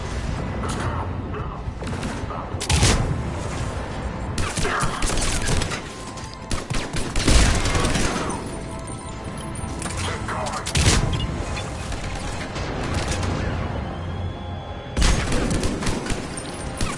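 In the video game Mass Effect 3, cannon blasts and rapid gunfire boom repeatedly through dense, loud battle noise, with voices talking under the combat.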